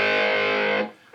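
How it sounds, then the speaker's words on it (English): Guitar played through a handbuilt dynamic distortion pedal: one sustained, buzzing distorted chord rings loud and steady for under a second, then cuts off abruptly into a faint hum. "the whole aim of this pedal when I built it was to be a really dynamic kind of distortion"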